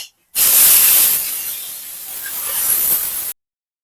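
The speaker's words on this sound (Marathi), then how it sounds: "जिरे मोहरी छान अशी तडतडलेली आहे" A loud, steady hiss of cumin and mustard seeds spluttering in hot oil, starting abruptly and cutting off after about three seconds, with no voices.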